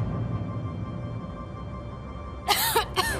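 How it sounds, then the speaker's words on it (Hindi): A woman coughs twice in quick succession near the end, loud and close, after a stretch of quiet room tone with faint background music in a palace drama scene. "ओहो, आपको तो खांसी भी है।"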